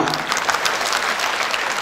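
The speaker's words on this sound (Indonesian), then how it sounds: "Tepuk tangan ya." A crowd at an agricultural extension workers' meeting claps steadily in dense, sustained applause, fairly loud and close throughout the short stretch.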